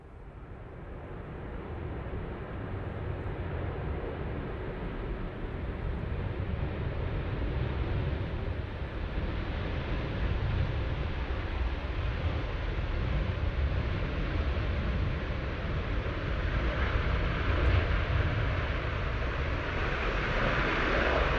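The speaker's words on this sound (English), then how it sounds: "You had to go pretty heavy on those reversers because they touched down a tad late." Airliner touching down at Manchester Airport in wet, windy weather, its heavy thrust reversers producing a sustained, broad roar that builds gradually and holds steady, heard from a distance.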